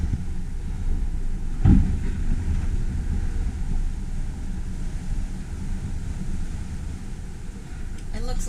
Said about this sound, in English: We have the wind on our stern.